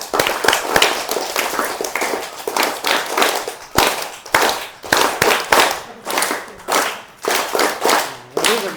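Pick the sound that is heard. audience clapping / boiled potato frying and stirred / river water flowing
audience clapping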